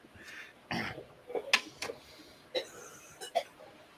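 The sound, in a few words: cough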